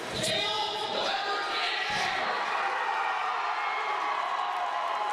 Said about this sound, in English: Well, that went over well with the crowd.